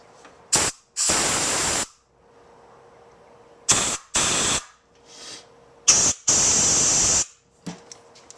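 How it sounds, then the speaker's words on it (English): Compressed air blasted through the small passages of a motorcycle carburetor, in several loud hissing bursts: short and long sprays in pairs, with quiet gaps between them. "Now I'll send some air down each one of these holes"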